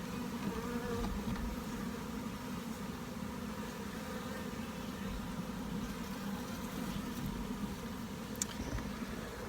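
A steady, dense buzzing of many honey bees around hives, a continuous low drone with no pauses, moderately quiet and surrounding.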